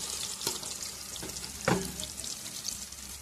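Onions frying in oil in a pan for biryani, a soft continuous sizzle close by with a few sharp stirring clicks and scrapes, no talking.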